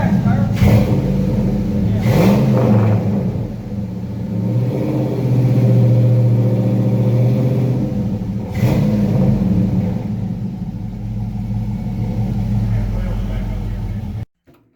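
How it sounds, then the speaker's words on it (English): A panel truck engine with a new, very loud exhaust, revving in a few bursts over a deep, rumbling idle, close and loud, with people talking over it. "Give it a little gas, Tyler."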